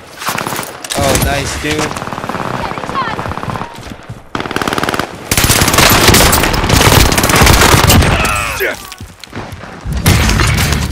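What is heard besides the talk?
gunfire in the video game Call of Duty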